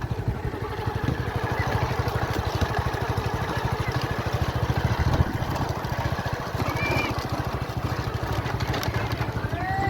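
A motorcycle engine running steadily nearby, a rapid, even low putter with some clatter throughout, with no voices and faint background noise.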